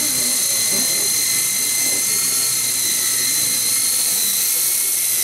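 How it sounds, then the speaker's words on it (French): A small radio-controlled model helicopter whines steadily with a high, buzzing rotor and motor tone, hovering close by over water at a model boat show; a faint voice murmurs underneath. "voilà le petit hélico qui arrive"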